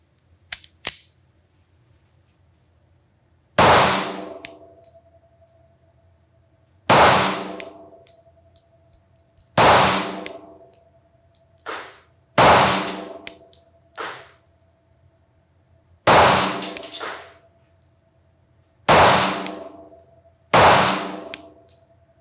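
Pistol shots fired one at a time at a 25-yard target on a range, about eight loud sharp cracks spaced a second or more apart, each ringing out briefly with a faint metallic ping after some shots.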